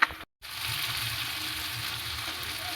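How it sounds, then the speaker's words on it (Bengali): Tengra fish sizzle steadily in hot oil in a kadai. The frying hiss runs continuously at close range after a brief click and a moment of silence at the start. "মাছগুলো আমি এবার এপিট ওপিট করে মাছগুলো ভাজা হয়ে গেলে তুলে নেব।"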